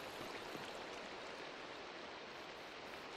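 A waterfall in the video game Minecraft gives a steady, faint, even hiss of rushing water, continuous and without change or talk.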